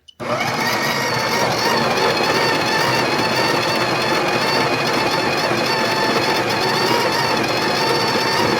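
A Breville coffee grinder grinds beans at a fine setting, a loud, steady, dense whirring roar that starts abruptly and holds unbroken at close range for the whole stretch.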